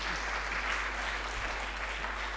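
Steady applause fills a hall at the ISMAR 2023 conference keynote, a soft, even patter from the whole audience heard from a distance over a low electrical hum.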